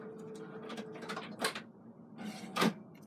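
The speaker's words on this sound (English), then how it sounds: "That's the printer." A home printer runs with a low steady hum under a series of mechanical clicks, whirs and sharp clunks at irregular intervals, close by and fairly quiet, with no talking.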